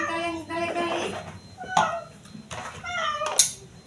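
A cat meows several times in short, close cries, interleaved with a voice speaking.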